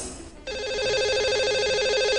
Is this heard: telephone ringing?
yes